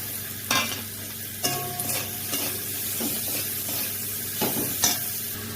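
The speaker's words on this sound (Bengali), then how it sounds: "চিংড়ি মাছ আর পেঁয়াজ রসুনটা ভাজা হয়ে গেছে" Prawns fry with onion, garlic, turmeric and salt in a pan, making a steady close sizzle broken by several sharp scrapes and knocks of stirring.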